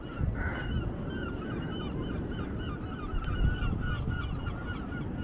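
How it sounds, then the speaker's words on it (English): Seagulls on the Blackpool seafront call repeatedly in loud, raucous cries over a rumbling outdoor backdrop, several birds overlapping at varying distances. "Seagulls are going mad about something as well."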